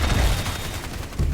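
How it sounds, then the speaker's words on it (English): Sentry guns open fire in the video game Evolve, a loud dense burst of rapid gunfire with heavy low thuds that eases off and then returns. "And then he's also got sentry guns, which he can deploy."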